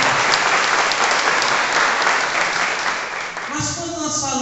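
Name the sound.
audience applause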